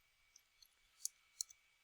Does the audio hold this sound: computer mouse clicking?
yes